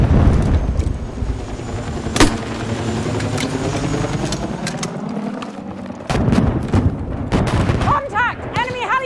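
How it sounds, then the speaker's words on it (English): An enemy helicopter in the video game Battlefield 6 thrums with steady rotor chop amid loud gunfire and sharp explosions, the beating fading in and out through the chaos. "Contact! Enemy helicopter!"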